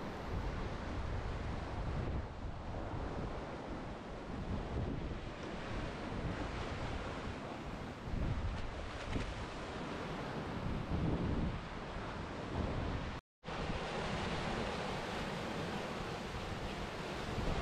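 A sailboat moving under sail alone, with a steady rush of wind and breaking waves filling the sound throughout, broken only by a brief dropout near the end.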